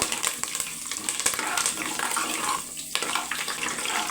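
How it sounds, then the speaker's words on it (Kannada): Mustard seeds and curry leaves frying in hot oil, a dense, loud, continuous sizzle with scattered sharp pops and spatter, heard close up with no voices. "ಸಾಸಿವೆ ಬೇವು ಇಷ್ಟನ್ನು ನೀಟಾಗಿ ಫ್ರೈ ಮಾಡ್ಕೊಳ್ಳೋಣ"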